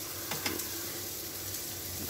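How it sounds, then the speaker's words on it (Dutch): Steady sizzling of a frikandel frying in a pan, a soft continuous hiss with a couple of faint scraping sounds near the start. "De frikandel is ook al mooi aan het bakken"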